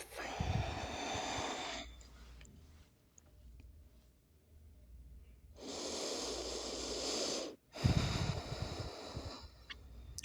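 A long, audible exhale during a yoga pose in an eagle-pose and garuda-mudra session: breathy, close, rushing air that rises and falls in several drawn-out waves, with no talk over it.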